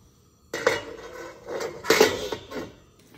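A lid clanks onto a cooking pot of beef steak, a few close metallic knocks and rattles in quick succession, followed by a brief settling clatter.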